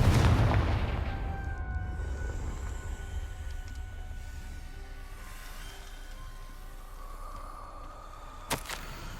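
A Confringo fire spell bursts in Hogwarts Legacy, a deep booming blast that decays into a long rumbling tail, followed later by a sharp single crack near the end.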